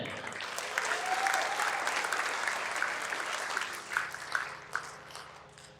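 Audience applause greets Eric at a martial arts black belt ceremony: a full, continuous round of clapping that swells, holds steady, then breaks into sparser individual claps toward the close.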